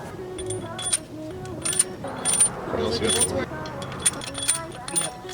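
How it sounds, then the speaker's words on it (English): Metal engine head bolts from an engine rebuild jangle and clink as they are gathered by hand and dropped into their holes. The bright metallic taps are close, and someone talks over them. "Now we're going to grab all the head bolts, put them into each of the holes."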